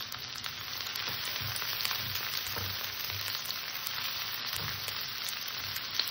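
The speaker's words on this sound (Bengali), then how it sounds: "পেঁয়াজ কুচি দিলে আমি হালকা একটু ভেজে নেব।" Chopped onions sizzling in hot oil in a pan, a steady bright crackling hiss heard close up with soft stirring thumps, no voices.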